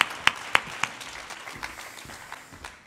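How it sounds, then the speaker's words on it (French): An audience gives scattered applause: a few sharp, close claps ring out at first, then thin to sparse, softer claps that fade away. "On peut les applaudir."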